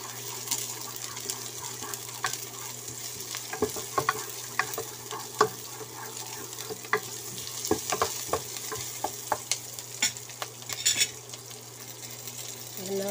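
Garlic sautéing in a pan for gisado, a steady close sizzle broken by scraping stirs and light clinks of a utensil against the pan.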